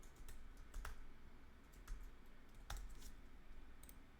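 Typing on a computer keyboard while entering a word into an Excel spreadsheet: a steady run of light, close key clicks with a few louder taps, and no talking.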